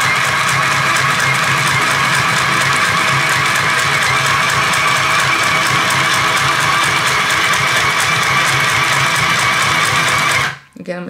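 A Singer Stitch Sew Quick 2 sewing machine runs continuously with a loud, fast, steady mechanical whirr and needle chatter, stopping abruptly at the very end.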